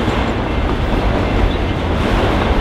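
Freight trains pass at a Texas railroad siding near a crossing, giving a loud, close, continuous rumble and roar of rolling cars with faint rhythmic wheel clatter, and no talk.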